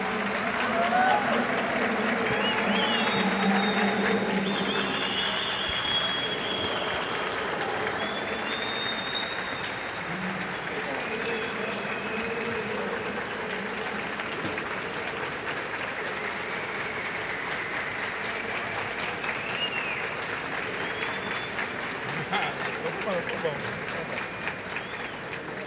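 An audience at a Campus Party talk in Brasília applauds a colonel turning 100, with steady sustained clapping that fills the room for the whole stretch, with a voice briefly heard near the start.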